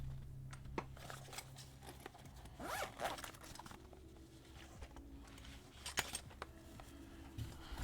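Keycaps pulled off an Aaru65 mechanical keyboard with a keycap puller make a few sharp, close plastic clicks and snaps, scattered irregularly over a low steady background hum.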